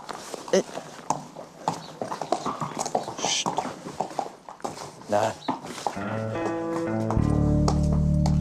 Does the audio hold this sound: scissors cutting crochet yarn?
no